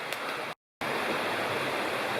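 The Bald River in the Bald River Gorge Wilderness rushing right beside a campsite, a loud, steady broadband water roar that cuts out briefly before resuming unchanged.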